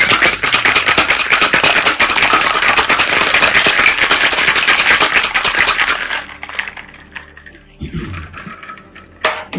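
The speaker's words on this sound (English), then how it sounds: "So we're going to give this a quick shake." A cocktail shaker is shaken hard for a cranberry winter mocktail with lime juice, simple syrup and ice, giving a loud, dense rattle of ice for about six seconds before it stops and a few quieter clinks follow.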